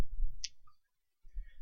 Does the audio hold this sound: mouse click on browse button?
yes